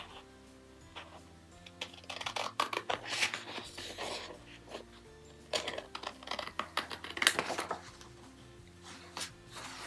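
Scissors cutting paper for a book journal, a run of close, crisp snips and rustles coming in irregular bursts with quiet pauses between them.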